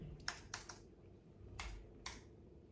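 Quick bursts of computer keyboard typing in a home kitchen, clusters of light clicks separated by short pauses over a low room hum.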